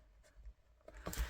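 A pen writes a short note on paper in quiet, faint scratching strokes, ending in a slightly louder scrape and tap.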